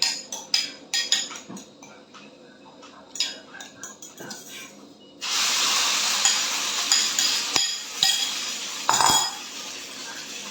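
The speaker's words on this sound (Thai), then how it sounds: "ทอดไข่สไตล์นี่ไง ไข่เจียวไง" Eggs for a Thai omelette stir and clink in a pan with scattered utensil taps, then break into a steady, loud sizzle of frying that continues with occasional scraping.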